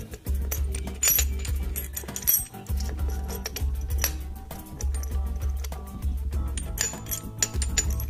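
Small metal parts clink and tap repeatedly as the kickstarter gear is fitted into a split-open Yamaha RX King motorcycle engine, with sharp irregular chinks close by and a low hum underneath.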